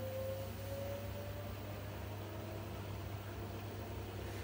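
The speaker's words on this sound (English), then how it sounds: "it starts spinning, and it will spin up to 600 RPM" An LG 6motion washing machine in service mode spins its drum up toward 600 RPM, a steady low motor hum with a faint rising whine early on and no voices.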